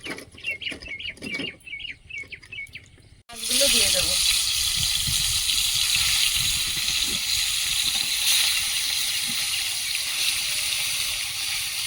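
Oil poured into a hot iron wok at an outdoor village cooking spot bursts into a sudden loud, sustained sizzle a few seconds in, after a quieter stretch with birds chirping.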